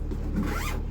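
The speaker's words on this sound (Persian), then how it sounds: "زیپشو ببندم،" A zipper on a travel suitcase pulled closed in one quick, close, continuous zip lasting under a second, with no voices.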